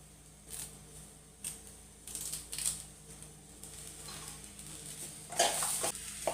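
Roasted chammanthi podi spices with coconut and curry leaves are stirred in a pan, giving intermittent scraping and clinking strokes of a utensil against metal, fairly quiet with a faint background hum.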